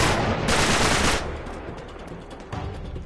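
Rapid gunfire and missile blasts from the video game Uncharted: The Nathan Drake Collection, loud, dense and continuous, with a heavier burst in the middle.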